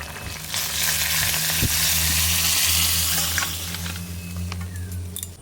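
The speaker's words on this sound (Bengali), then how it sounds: "এবার তরকারিতে ফোড়ন দেবো" Loud, continuous sizzling and crackling as spices and bay leaf are tempered in hot mustard oil for a village koi fish curry with thankuni leaves, a close frying hiss with a few stirring clinks.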